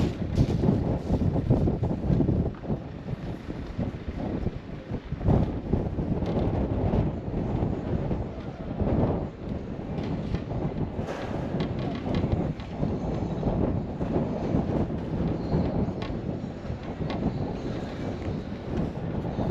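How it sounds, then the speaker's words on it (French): Strong desert wind in southern Morocco, about 200 km from Dakhla, roars and buffets the microphone continuously, a loud, gusty rush with no voices. "il y a un putain de vent, c'est impressionnant"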